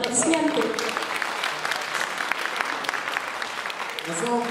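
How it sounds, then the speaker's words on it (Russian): An audience at a Kumyk community evening applauds, steady crowd clapping with voices heard over it at the start and end. "Аплодисменты."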